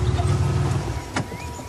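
A car sounds close and fairly loud, with a low rumbling hum and a brief sharp click midway. No one speaks.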